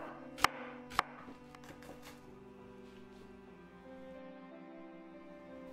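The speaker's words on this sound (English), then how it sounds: "We start by slicing the onions." Onions are sliced with a knife on a cutting board: two sharp, close chops land in quick succession, followed by quieter, faint cutting against a low background hum.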